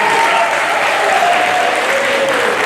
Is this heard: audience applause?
yes